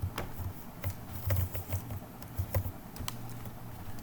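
Rapid, uneven keystrokes on a computer keyboard as an Aadhaar card number is entered during patient swab collection data entry, close and clear with short pauses between bursts of clicks.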